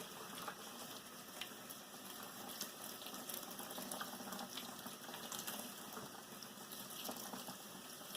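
Tap water runs steadily through the roots of a golden pothos to rinse the dirt out, a continuous close splashing gush with faint irregular spatters and no voices.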